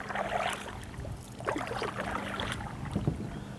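A personal kayak paddled across White Lake in northwest New Jersey: soft water swishes and paddle dips under steady wind noise, close but quiet, with no talking.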